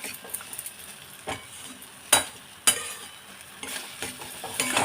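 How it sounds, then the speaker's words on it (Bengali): Ridge gourd peel paste with sugar is stirred in a pan: sparse scraping strokes and a couple of sharp spoon knocks over a faint, low sizzle. "ভালো করে নাড়াচাড়া করে নিতে হবে।"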